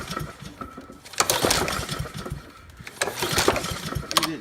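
A TB-130 string trimmer engine is pulled repeatedly and fails to start, giving two or three bursts of rough mechanical whirring and rattling separated by pauses, close by.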